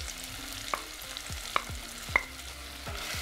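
Okra stew with crisp and fresh okra being stirred in a pot: a spoon scrapes through the thick mixture over a low simmer, with about four distinct knocks of the spoon against the pot at a slow, even pace, close and alone.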